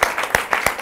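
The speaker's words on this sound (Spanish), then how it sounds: "Un aplauso para ustedes." A brief round of clapping from a small audience after a talk on a literary work, heard as a few separate, fairly close hand claps at a loose, uneven rhythm.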